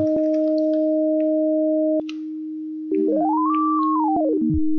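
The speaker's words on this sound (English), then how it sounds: "Using this I can play two sine waves at the same time" Pure sine tones from an M8 Tracker, two held an octave apart, then the upper one drops out and returns as a smooth pitch sweep rising and falling against the steady lower tone, clean and electronic.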